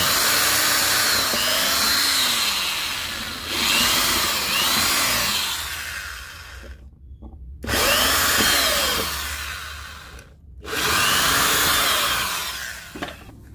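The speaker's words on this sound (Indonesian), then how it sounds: "ini nanti kita akan bor Mas, untuk tempat skrup" An electric drill whines loudly in several long bursts, pitch rising and sagging as it bores a small screw hole into a wooden board, with short silent pauses between runs.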